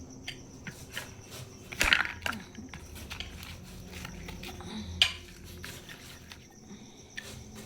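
Cooked rice being crushed to powder for making haria rice beer makes quiet rubbing and grinding scrapes against a pot, with a couple of sharper knocks standing out.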